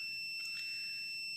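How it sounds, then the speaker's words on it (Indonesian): The buzzer of a water-level flood warning sensor for a river sounds a steady, high-pitched electronic tone without a break. It is fairly quiet and heard alone, with no talk. "Nah, ini buzzer nyala itu untuk"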